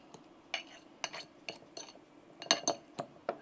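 Hashbrown mixture for hot honey jalapeno popper hashbrowns stirred in a bowl with a utensil, giving a close, irregular series of light clinks and scrapes against the bowl.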